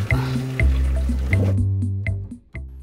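Boiled spinach is strained, and the cooking water drains and drips through with a wet, splashing trickle under steady background music.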